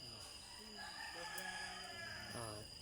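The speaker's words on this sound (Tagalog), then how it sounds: "Tumitilaok na yung mga manok." Faint roosters crow in the distance before dawn, a couple of drawn-out calls rising and falling over quiet background hiss, with a soft cluck or two.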